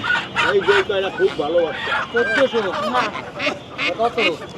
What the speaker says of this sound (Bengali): আকাশ কয়েকটা মোরগের বাচ্চা নিব নাকি